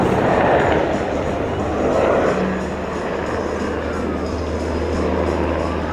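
A Slovak Air Force Black Hawk helicopter manoeuvres at the Ostrava air show, its rotor and turbine roar continuous and moderately distant, with the pitch gently sweeping as it banks and turns.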